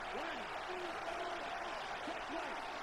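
Stadium crowd noise from a Madden NFL football video game during a Giants franchise-mode NFC Championship, a steady roaring wash of cheering held throughout beneath a commentator's voice.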